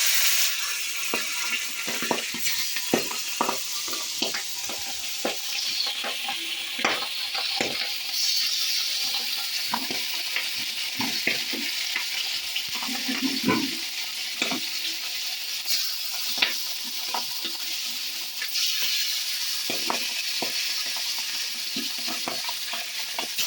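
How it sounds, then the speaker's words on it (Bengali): Fish sizzling and spitting in oil in a hot wok, with a steady dense hiss throughout and occasional clinks of a utensil stirring; no talking, close and continuous. "মাছগুলো ভেজে নিই আমি"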